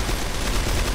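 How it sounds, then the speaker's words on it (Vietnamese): Rapid, dense gunfire from a Glock 357 pistol in the CrossFire online shooter game, a continuous loud burst of shots filling the whole second with no talk. "Và dòng súng ngắn hôm nay được lựa chọn đấy là Glock 357."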